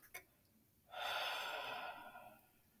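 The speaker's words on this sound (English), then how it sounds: "put your tongue on the roof of your mouth and breathe deeply" A deep breath drawn in through a slightly open mouth with the tongue resting on the roof of the mouth: a soft, airy inhale of about a second and a half, close and fairly quiet, after a brief short sniff at the start.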